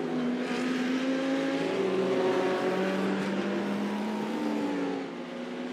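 A race car engine in the iRacing sim at Sebring sits pinned at the rev limiter, a loud sustained buzzing drone whose pitch wavers slightly as it bounces against fuel cutoff, fading a little at the end.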